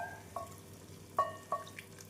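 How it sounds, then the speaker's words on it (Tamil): Water drips and splashes into a pot of coconut tomato curry, with a few faint, separate drops spaced out over a quiet background. "குழம்பிற்கு தேவையான அளவு தண்ணீர் சேர்த்து விடலாம்."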